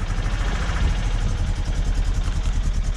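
A Vauxhall Cavalier Diplomat 8-valve engine runs roughly, loud and close, with an uneven, lumpy pulsing idle and no talk over it.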